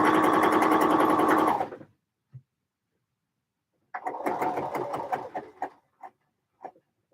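A home sewing machine stitching in a fast burst that stops abruptly, followed after a pause by a second run of uneven, stuttering stitches with short gaps.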